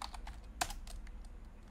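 Quiet, close typing on a computer keyboard while writing React form code, a brisk irregular patter of key clicks with one sharper keystroke near the middle, no speech.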